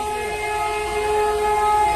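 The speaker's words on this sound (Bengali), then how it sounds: "দেখতেই পাচ্ছ ট্রেনের আওয়াজ আসছে গাইস" A train at a railway station, a loud steady rumble with a sustained horn-like tone running through it, close and continuous, with no voices.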